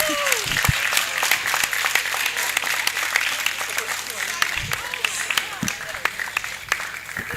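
Applause from a conference audience fills the space, sustained broadband clapping with occasional sharper claps standing out, steady and moderately loud, with a few voices mixed in.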